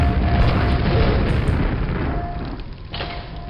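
Rocket explosions in a video game, loud heavy booms rolling one into another, fading toward the end, with no talk.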